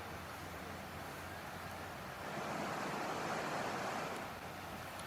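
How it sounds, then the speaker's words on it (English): A river flows in the distance outdoors on a sunny day, a steady broadband rush that swells slightly midway, faint and continuous with no talking. "maybe if you listen closely you can hear the river"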